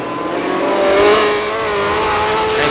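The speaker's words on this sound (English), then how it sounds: "Casey puts the throttle down." A race car accelerating hard at Star Speedway in New Hampshire, a loud, close engine roar climbing steadily in pitch as the throttle goes down.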